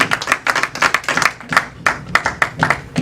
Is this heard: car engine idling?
no